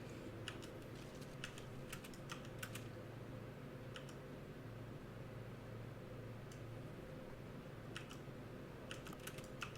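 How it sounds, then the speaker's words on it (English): Rapid typing on a computer keyboard, with irregular bursts of key clicks over a steady low hum, quiet and close, with no voices. "I type at a keyboard a lot."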